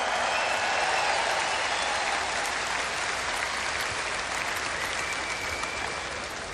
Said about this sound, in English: Another big round of applause for her.